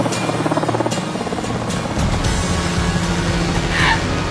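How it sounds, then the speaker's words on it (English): Helicopters lift off and fly out, a steady loud rotor and engine drone that swells after the first couple of seconds and holds close throughout. "Load the helicopters and fly them out."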